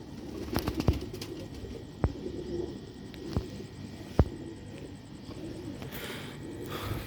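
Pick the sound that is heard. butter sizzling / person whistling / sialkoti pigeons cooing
sialkoti pigeons cooing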